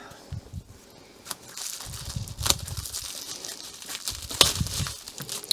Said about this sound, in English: So it does come packaged really well in this bubble wrap.